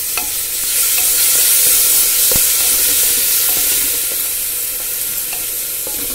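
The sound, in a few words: onion, masala and grated tomato frying in pan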